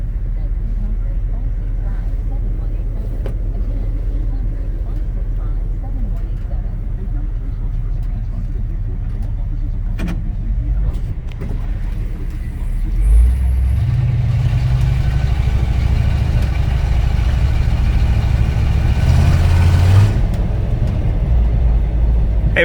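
A restored 1967 Ford F250 Ranger pickup's engine runs with a low, steady rumble, swelling louder partway through as it revs or pulls away, heard from inside or close by without speech.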